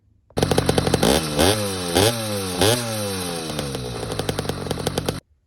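A custom motorcycle engine fitted with a Pro Circuit silencer exhaust in place of the stinger fires up and revs hard several times, rising and falling loudly and close, then idles raggedly before cutting off.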